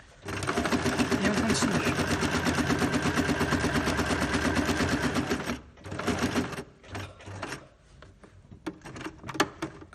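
A sewing machine stitching fabric for a gift bag runs in a steady, close whir for several seconds, then stops and gives a few short bursts as the work is turned, with a brief spoken remark near the end.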